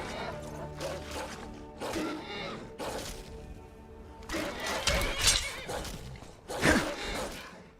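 A horse in Skyrim Special Edition gives a shrill, drawn-out whinny, loud and close, amid game combat with thuds and crashes and repeated noisy bursts.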